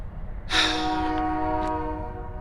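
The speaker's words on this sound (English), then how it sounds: "That goddamn train." A train horn sounds near a cemetery, one sustained multi-tone blast that starts abruptly and holds steady for about two seconds over low background rumble.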